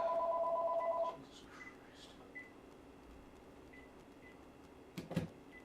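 Telephone keypad tones: a steady two-tone keypad beep for about a second, then quiet handling clicks and a brief burst of noise near the end, with a man muttering once.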